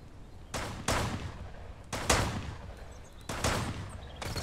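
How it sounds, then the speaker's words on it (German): Enemy gunfire in Mist Survival, three loud bursts of rapid shots in a steady rhythm, each roughly a second long, with quiet gaps between. "Die schießen genau in meine Richtung."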